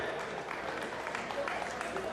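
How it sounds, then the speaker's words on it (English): Audience applause at a boxing press conference, a steady wash of clapping that fills the room, with voices and cheering mixed in throughout. "Round of applause for someone that's fighting someone he doesn't know."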